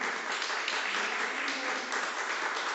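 A church congregation claps together in praise, a dense and even wash of many hands that stays steady and fairly loud throughout.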